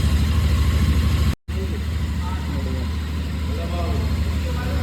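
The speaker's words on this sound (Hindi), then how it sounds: "भाई ऐसी कुछ है इस बाइक की आवाज़।" A Royal Enfield GT 650 motorcycle idles nearby with a steady, even low rumble and a brief dropout partway through, while someone talks over it.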